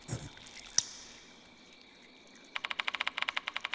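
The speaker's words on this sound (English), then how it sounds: "Why do I hear the sound of dripping water?" Water drips in the horror video game Spirit Hunter: Death Mark II. A single sharp drop falls early, then after a quiet stretch a rapid, regular series of bright drips continues to the end, with no talking.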